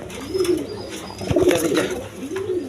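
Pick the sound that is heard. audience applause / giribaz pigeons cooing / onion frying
giribaz pigeons cooing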